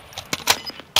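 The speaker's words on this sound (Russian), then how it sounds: "Сменю магазин." Gun magazine being swapped during a reload in Call of Duty: Modern Warfare 2, a quick run of sharp metallic clicks and clacks over about one second, ending in a louder snap, with no talking.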